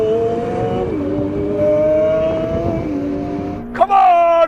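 A Ferrari 488 Pista, McLaren 720S and Lamborghini Aventador SV drag race locked in third gear in their sportiest settings, giving a loud, sustained engine roar with shifting pitch, then a sharp rev burst near the end.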